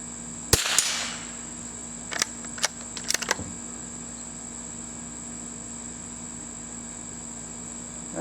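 A single sharp crack from a Winchester Model 52 .22 rifle fired at a boar target, followed a couple of seconds later by a few quick faint metallic clicks, over a steady insect-like background hum.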